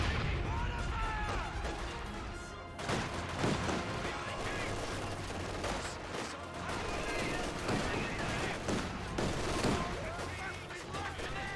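Battle din in Company of Heroes 2, with rifle and machine-gun fire mixed with mortar and artillery blasts, a busy, layered clatter of shots and thuds that carries on throughout at moderate volume.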